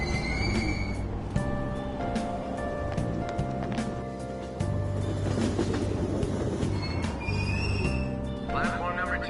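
A train departs a station in the video game Persona 5 Royal, with a continuous rolling rumble and clatter under music, and a voice speaks over it.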